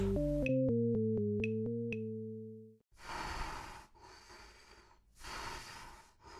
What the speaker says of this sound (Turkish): Acaba kim eşek gibi nefes alıyor kapının arkasında?